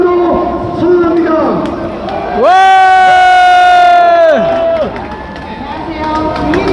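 A large crowd at a street rally beside the Constitutional Court, in front of the Hyundai E&C headquarters, erupts in loud unison shouting and cheering that swells for a couple of seconds mid-clip, amid general crowd noise and voices.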